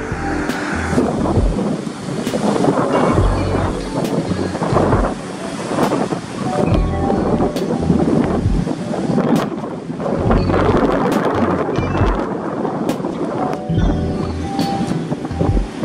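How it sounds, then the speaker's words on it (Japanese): Ocean waves break near the shore at a surf break while a strong onshore wind buffets the microphone, a loud continuous roar with repeated surges and gusts and no voices. "海には ミドル付近から 波は割れますがややインサイド気味にブレークしてますねこちらは"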